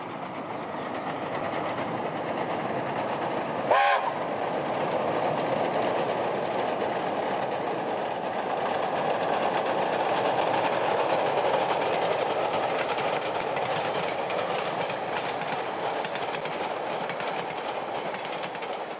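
A steam locomotive rolls past over a modern concrete bridge across the Wairau River, New Zealand, with a continuous rumble and rhythmic clatter of wheels, with one brief sharp clank early on.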